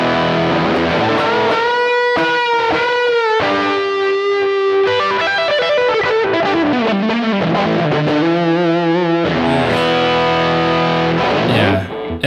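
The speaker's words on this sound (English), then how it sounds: "So you have overdrive in the amp" Electric guitar through amp overdrive and a fuzz pedal plays sustained, thick, dark distorted notes and bends, loud and up close with long sustain, with no talking over it.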